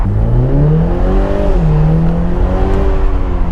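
A BMW Z4 sDrive30i with 255 horsepower accelerates hard, its engine rising loudly through the revs, dropping briefly at a gear change and climbing again, heard close from inside.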